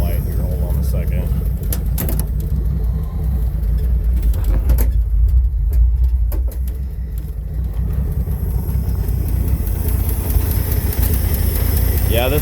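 An old Ford bullnose truck idles with no exhaust system, only a bare downpipe, giving a loud, steady low rumble with sharp metallic clatters and a voice heard over it.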